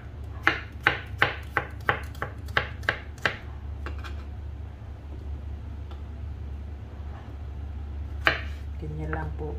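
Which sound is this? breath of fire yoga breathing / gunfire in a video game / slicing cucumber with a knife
slicing cucumber with a knife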